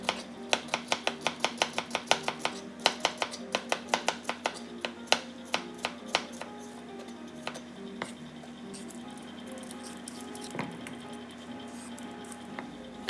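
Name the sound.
knife slicing bitter melon thinly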